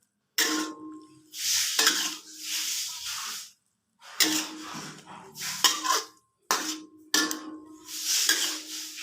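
Vegetables are stir-fried in a wok, giving bursts of hissing sizzle and scraping stirring strokes that come in several separate rounds with short quiet gaps.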